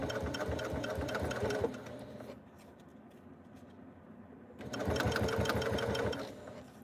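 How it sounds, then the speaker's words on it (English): A sewing machine stitches a tote bag in close, loud bursts of rapid even stitching, pausing for a couple of seconds of quieter handling before running again. "So stitching right to my line here, going back just a couple stitches"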